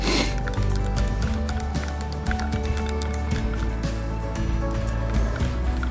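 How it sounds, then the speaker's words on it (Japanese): Spray paint decanted from an aerosol can into a container for a Tamiya Ford Mustang GT4 model fizzes as it degasses, giving a continuous close, faint bubbling hiss with small liquid crackles throughout. "結構シュワシュワは出てこなくなってきてるので"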